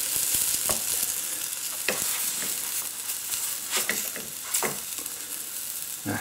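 Thai salmon burgers frying in a pan and being flipped over, giving a constant sizzle punctuated by scattered clicks and scraping knocks of a utensil.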